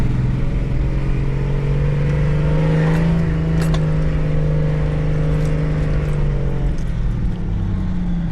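A Nissan off-road vehicle with a front differential locker grinds slowly downhill, its engine humming steadily and loudly throughout, with a few light clatters and knocks from the drivetrain over the terrain.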